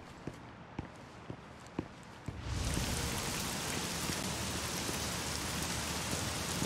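Heavy rain in the video game The Medium swells in abruptly after a few footsteps and then pours steadily, a dense, loud hiss that fills the rest of the scene.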